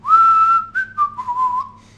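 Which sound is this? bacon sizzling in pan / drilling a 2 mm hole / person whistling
person whistling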